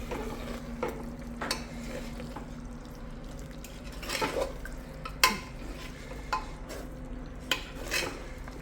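Green gram and prawn egg gravy being stirred in a pot, with soft scraping and occasional sharp spoon knocks against the metal over a low steady hum, no talking.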